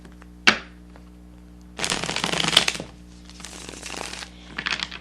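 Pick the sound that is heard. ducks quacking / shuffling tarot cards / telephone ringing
shuffling tarot cards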